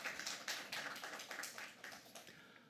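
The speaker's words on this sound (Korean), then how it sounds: "큰 박수로 맞이해 주시기 바랍니다." Faint, dense clapping patters through an international academic conference hall as a speaker is welcomed, a soft steady wash of many hands with no talk over it.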